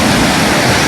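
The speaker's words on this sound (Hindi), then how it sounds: "ये देखिए यहाँ से ये आबशार आ रही है, ये देखिए ये कैसे बह रही है यहाँ पे" Waterfall in Naran valley pouring down steadily, a loud, close, continuous broadband rush of falling water with no pauses.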